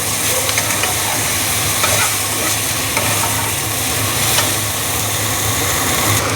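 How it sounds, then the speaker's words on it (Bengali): Vegetables frying in a pan, a loud continuous sizzle and hiss with scraping stirring strokes throughout, close up and without talk. "আমরা ভেজে নেব সবজিগুলো।"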